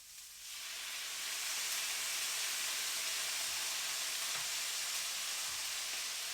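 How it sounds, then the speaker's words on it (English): Shrimp and broccoli stir fry hisses loudly as water hits the hot pan, a sudden burst of steamy sizzle that settles into a steady, bright crackle. "Listen to the sizzle."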